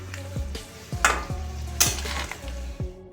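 Okra and potato curry with eggplant and lentil dumplings being stirred in a pan: a steady low sizzle broken by scraping spatula strokes roughly every half second, close and moderately loud, with no talking.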